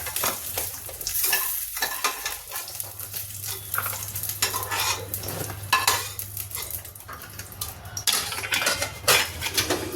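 Onions stir-fried in oil in a pan for a jackfruit dish, with a steady sizzle and repeated spoon scraping and clinking against the metal throughout.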